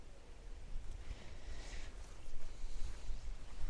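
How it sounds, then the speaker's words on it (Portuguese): Winter wind gusting through a garden of fading dahlias, a steady low rumble of buffeting air that swells louder toward the end, with no talk. "O vento tá cortando."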